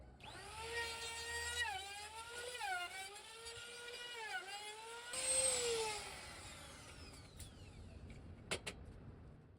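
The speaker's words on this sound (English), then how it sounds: "I'll round the edges of the base using my router." A handheld router rounds over the edges of a wooden base with a loud, close, high whine that dips and rises as the bit bites into the wood in several passes. The pitch then spins down as the motor winds off.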